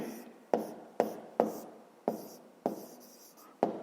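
Pen or pencil writing by hand while fractions are noted down for a fifth-grade math exercise: quiet scratchy strokes in a regular rhythm, about seven sharp taps each followed by a fading scratch, close and alone.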